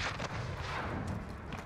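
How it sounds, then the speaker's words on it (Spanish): Gunfire in the Call of Duty video game: a few muffled shots and booms at a distance within a dense, noisy battle mix, with no talk. "Aquí hay disparos, ¿no?"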